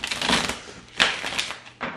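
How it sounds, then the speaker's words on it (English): Tarot cards shuffled by hand during a card reading, a run of crisp papery riffles and slaps in several bursts, close and fairly loud, with no talking. "So what I'm going to do is shuffle the cards"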